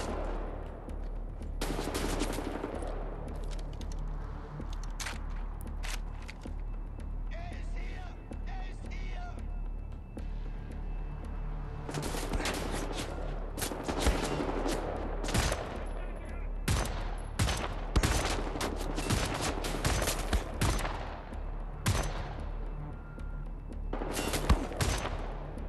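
Rapid gunfire from weapons in the shooter Wolfenstein: The New Order, a lunar base level, with loud bursts and automatic fire in clusters and someone talking over parts of it.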